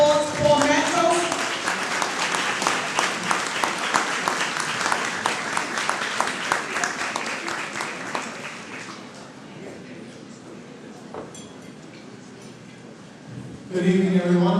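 Gala audience breaking into loud applause that fills the room, dense clapping that thins and fades over about ten seconds before a voice begins speaking near the end.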